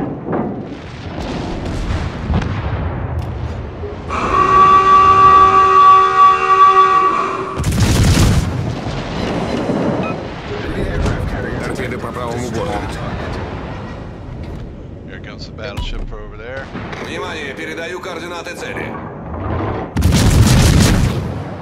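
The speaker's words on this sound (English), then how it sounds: "Coastal guns." Coastal gun artillery fire in World of Warships: loud, deep booming blasts arrive in separate bursts, with a long horn-like tone sounding earlier and game effects and voices mixed in between.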